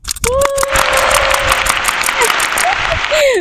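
Loud crowd applause after a song at an arts university gathering, dense and sustained, with a voice and cheer-like tones riding above it.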